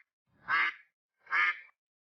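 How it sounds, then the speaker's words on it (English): A duck quacks twice, two loud, clear quacks about a second apart, with silence before, between and after them. "A duck swims on the pond with her babies."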